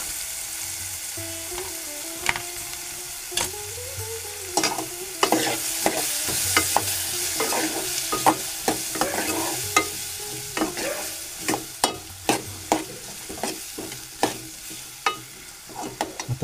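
Rajma is stirred in a frying pan, the gentle sizzle broken by repeated sharp scrapes and taps of a spoon that come faster and louder toward the end; no one speaks.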